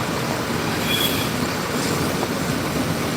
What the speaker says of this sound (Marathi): ही बघा ट्रेन चाललेली आहे